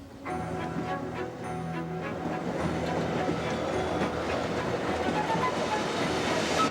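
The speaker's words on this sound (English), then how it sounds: "Our train appears out of a tunnel and arrives at the station by the lake just 1 hour after leaving Chur." A passenger train arrives at the lakeside station in Arosa, Switzerland, after emerging from a tunnel on the line from Chur, rumbling steadily with clattering wheels and a hum that persists loudly to the end.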